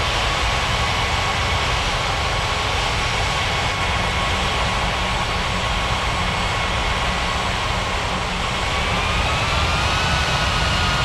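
An airliner takes off from a runway in an air traffic control game, with a loud, steady jet engine roar and a rising whine that fills the whole stretch without a break.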